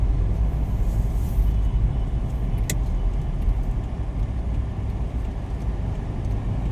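Steady street traffic in Manila near Intramuros, with a continuous, loud rumble of car engines and tires rolling close by and no talk.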